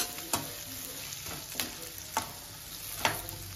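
Capsicum frying in a pan for restaurant-style chilli chicken, a low steady sizzle broken by a few sharp scraping stir strokes about every half second to second, close and fairly quiet, with no talking.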